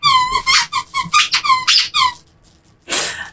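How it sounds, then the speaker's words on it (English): A dog plays with a squeaky toy nearby, giving a rapid run of high, loud squeaks for about two seconds, then a short pause and one more burst of squeaking. "having a squeaky toy in the background"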